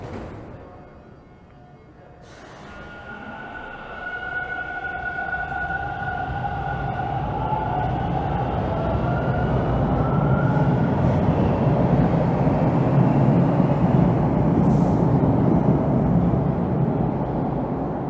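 A Toronto subway train pulls into Warden Station, a rising rumble and whine of wheels and motors growing steadily louder as it approaches, with a faint high squeal early on and no talking.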